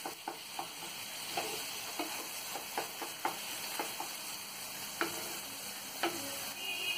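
Ridge gourd chutney fries in oil in a pan, a faint steady sizzle broken by soft regular ticks and scrapes of stirring.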